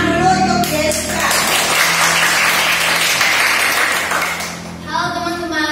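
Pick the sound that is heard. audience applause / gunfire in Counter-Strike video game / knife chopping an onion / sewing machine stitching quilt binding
audience applause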